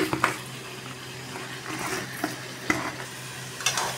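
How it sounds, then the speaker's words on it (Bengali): Green jackfruit is stirred into spice paste frying in a pan, giving a soft continuous sizzle broken by a few sharp scrapes and clacks of the spoon against the pot, close up and without talk. "এঁচোড় দিয়ে এই যে আমি নাড়ছি"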